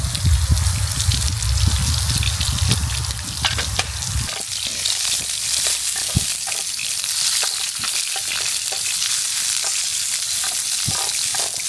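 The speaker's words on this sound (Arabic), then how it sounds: "وراح نقلي بيه البصل. خليه شوي ينحمس" Onions frying in hot oil in a pot, giving a steady loud sizzle with stirring scrapes and crackles throughout, and no voices over it.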